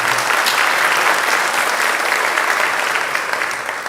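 Congregation at a Sunday church service applauding together, a dense, steady wash of many hands clapping at close range for about four seconds, fading slightly at the end.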